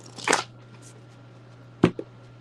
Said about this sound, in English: I'm going to shuffle these up real quick.